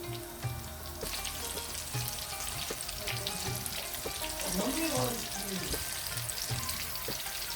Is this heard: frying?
yes